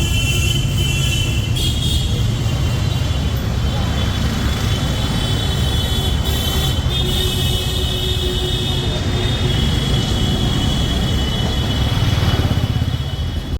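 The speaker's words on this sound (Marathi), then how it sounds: "आता आपली ट्रेनसुद्धा आलेली आहे लोकल" A Mumbai local train pulls into the station with a loud, continuous rumble and rushing roar that holds steady throughout and swells slightly near the end.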